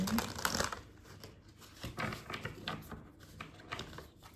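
Tarot cards being shuffled and drawn make quick crisp riffling and flicking bursts, fairly faint and close, with a moment of quiet between handling sounds.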